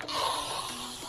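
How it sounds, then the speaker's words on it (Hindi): Mosquito repellent spray released from an aerosol can at a riverside campsite, a close, steady hiss lasting about a second. "ये लो जी, लगा मच्छर स्प्रे।"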